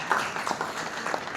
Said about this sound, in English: give yourselves a big round of applause, you guys